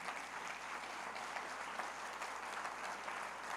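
A church congregation claps together during a Spanish-language sermon, a continuous, even wash of applause heard faint and somewhat distant, with no voices over it.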